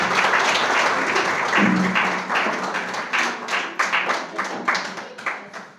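A crowd applauds to welcome a speaker at a religious gathering, dense steady clapping that thins into more separate, uneven claps toward the end.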